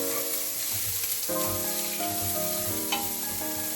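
Onions frying in a pan with garlic, ginger and chilies for a moong dal tempering, a steady close sizzle that carries on unbroken, with a faint tonal sound running underneath.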